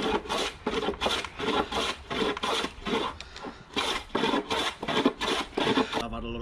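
A card scraper is pushed across the grain of wood on a Roman workbench in a series of about a dozen rasping strokes, each a short scratchy burst, close and fairly loud with brief pauses between them.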